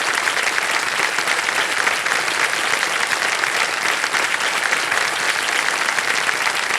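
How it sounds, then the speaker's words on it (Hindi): Sustained loud applause from a studio audience on the game show Kaun Banega Crorepati fills the space, a steady dense clapping that never lets up. "तालियां बज जाए इनके लिए"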